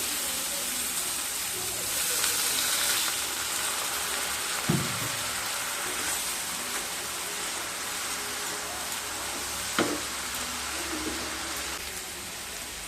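Spiced okra masala with kasuri methi sizzles steadily in a pan as a little water is added, giving a soft continuous hiss broken by a couple of brief knocks.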